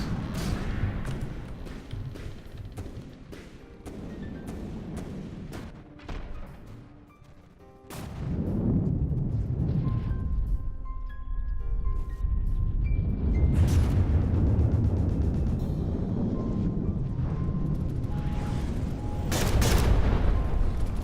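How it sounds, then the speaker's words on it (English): Heavy cannon blasts from a steamworks vessel boom out in the game From the Depths, several deep, rumbling explosions rising over a dense, constant wash of battle noise. "Big cannons on that steamworks there."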